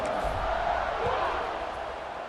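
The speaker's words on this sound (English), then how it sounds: "They're set to kick it off, and this crowd now ready to get behind them." Stadium crowd roars steadily at a football kickoff in a college football video game, a dense continuous wash of many voices at moderate loudness that fades slightly toward the end.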